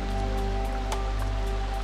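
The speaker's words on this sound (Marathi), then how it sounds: "मस्त पाऊस आलाय जोरदार. जोराचा पाऊस." Heavy monsoon rain pours steadily in a Konkan village, a dense, even hiss with a few sharper drops, close and continuous, no voices.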